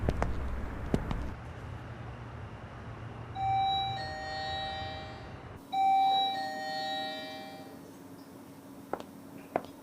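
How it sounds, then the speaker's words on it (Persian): A door buzzer at a gate sounds twice, each a loud sustained electronic tone holding for about a second and then fading, in a quiet indoor room with a few soft knocks. "زنگ دروازه است."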